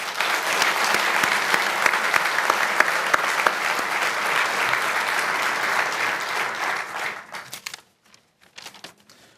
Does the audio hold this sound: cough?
no